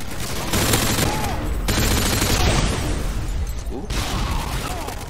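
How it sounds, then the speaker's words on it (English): Shotgun fire from the video game Call of Duty: Modern Warfare 2 lands as loud, dense blasts in close succession, with heavy booming bursts filling the whole stretch. "I also unlocked this shotgun"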